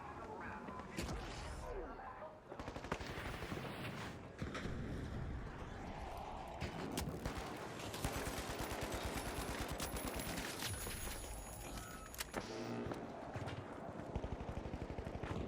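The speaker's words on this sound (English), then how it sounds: "I'm already hearing gunfire." Bursts of rapid gunfire crackle and rattle almost continuously over a dense, noisy soundscape in the video game The Finals, with some muffled voices mixed in.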